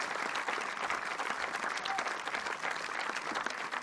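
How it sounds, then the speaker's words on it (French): An audience at a film festival awards ceremony in Saint-Jean-de-Luz claps steadily and warmly, a dense, continuous round of applause from a crowd indoors. "Allez, les applaudissements lélusiens pour montrer que nous avons cette chaleur dont vous savez faire preuve."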